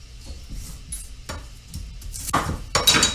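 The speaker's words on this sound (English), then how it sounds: "I'm going to go ahead and cut down the onion" A kitchen knife cuts through an onion, giving a few dry, crisp chopping and scraping bursts near at hand that grow louder toward the end, with faint clinks of utensils and no talking.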